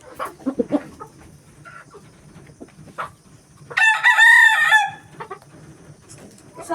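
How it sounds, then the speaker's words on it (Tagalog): Chickens cluck and scratch softly nearby on a farm, then a rooster lets out one loud, drawn-out crow before the quiet clucking resumes. "Ang kupal ng mga manok."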